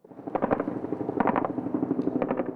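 Cobra attack helicopters fire during clashes, heard as loud rapid bursts of rhythmic thumping and chopping, with a short gap between the bursts.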